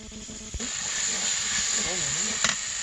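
Minced chicken tipped into spices sizzling in oil in a pot on a clay stove, a steady loud hiss and crackle throughout with a brief thump near the start and under a voice.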